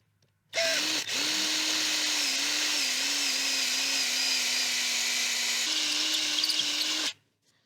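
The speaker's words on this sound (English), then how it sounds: "I've clamped the axe securely, and now I'll begin to drill out the top of the axe." An electric drill bores into the top of a clamped steel axe head, a sustained whining motor tone with slight pitch wavers, close and loud, running steadily for several seconds before stopping.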